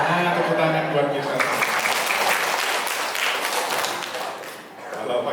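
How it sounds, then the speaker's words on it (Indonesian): Applause fills a gathering led by a Catholic priest in Indonesia, a dense crowd clapping steadily after a call to applaud, with voices and cheering mixed in near the start. "tepuk tangan buat kita"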